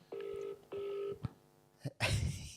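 A phone dials with two long steady tones followed by a couple of short beeps and clicks, then a burst of noisy sound at the end.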